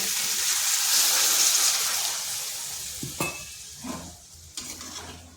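Potatoes and pointed gourd sizzle loudly in hot oil in a pan, then water is poured in, bringing a few sharp splashing bursts as the steady frying hiss drops away.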